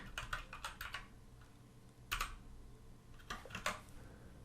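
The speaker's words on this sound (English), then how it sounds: "And I have to type in Jody's name" Typing on a computer keyboard, close and moderately quiet, with quick clusters of key clicks separated by short pauses.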